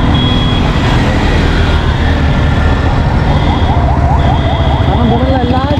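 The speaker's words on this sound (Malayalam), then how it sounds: "അപ്പം ഞാൻ പറഞ്ഞു കഴിയുമ്പോഴത്തേക്ക് ആംബുലൻസ് ഇതാ പാസ് ചെയ്ത് വരുന്നുണ്ട്." An ambulance siren passes through traffic at Manjeshwaram, its wailing tone rising over loud engine and road rumble, heard close and continuous for several seconds with no talk.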